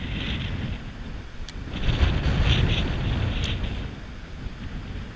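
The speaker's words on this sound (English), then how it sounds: "It is really windy out here." Strong wind sweeps over open water during kayak fishing in Florida, a heavy, steady low rumble of mic buffeting with faint higher hiss and a couple of light clicks.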